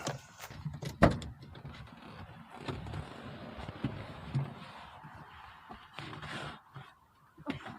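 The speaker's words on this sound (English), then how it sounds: "Get out of the suicide door." Rear-hinged suicide door of a Mazda RX-8 with a hot start fault opening and shutting, heard as a sharp thump and clunks amid shuffling and rustling close to the car, with faint car horn-like honks.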